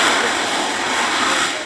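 A SpaceX Super Heavy rocket fires its engines during its first static fire test, producing a loud, continuous broadband roar that stays constant throughout.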